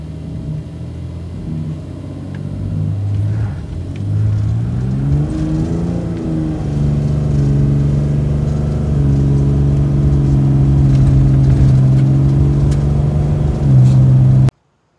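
A 2012 Ram 2500 pickup's turbocharged engine, fitted with an upgraded manifold, rumbles loudly, then revs up and holds a strong, rising drone as it accelerates steadily for several seconds.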